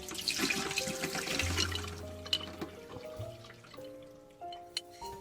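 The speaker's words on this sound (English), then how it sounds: "the next day, all you have to do is just rinse out the water" Water running and splashing in a sink, with drips and small clinks of a jar holding lotus seeds being rinsed, fairly quiet.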